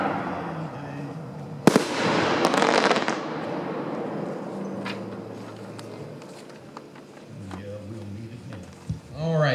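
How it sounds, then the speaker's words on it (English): Vulcan 4-inch assorted crisscross firework shells burst with a sharp, loud bang, then a rush of crackling and popping follows. The noise fades into a scattered distant rumble while people talk nearby. "These Vulcan assorted crisscross are going to be nothing like the cakes that we saw earlier."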